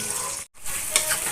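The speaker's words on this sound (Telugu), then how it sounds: "ఆనియన్ లైట్ గోల్డెన్ బ్రౌన్ వచ్చేంత వరకు ఇలాగే ఫ్రై చేస్తుండాలి" Onions frying in a pan, a dense, steady sizzle that fills the whole moment apart from a brief gap, with a sharper crackling burst near the end and no talking.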